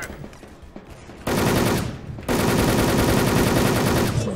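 M4A1 rifle gunfire from the online shooter Wolfteam, beginning with scattered lighter shots and then sustained loud automatic bursts that fill the background, with one brief pause between them.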